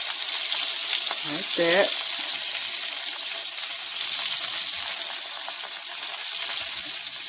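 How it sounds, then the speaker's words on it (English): Beef tips sizzle and fry as they brown in a crock pot, giving a steady, close hiss throughout. A voice speaks briefly near the start. "They all brown on both sides."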